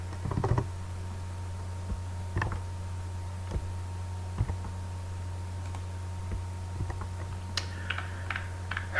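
Keys clatter in short bursts of typing on a computer keyboard while data goes into a spreadsheet, faint against a steady electrical hum, with pauses between the clusters.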